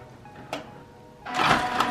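A home printer feeds a wedding invitation card, starting with a faint whir and a short click, then a louder, grinding mechanical rush of rollers and print head near the end.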